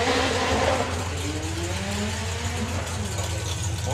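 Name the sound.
drag racing Raggy Conversions Corsa car run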